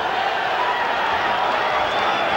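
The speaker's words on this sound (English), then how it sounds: "The crowd roaring with every move Barrera makes. A roar of approval, I might add." A boxing crowd roars in approval during the final round of the Daniel Jimenez vs Marco Antonio Barrera fight, a dense, continuous wall of cheering that holds at full strength throughout.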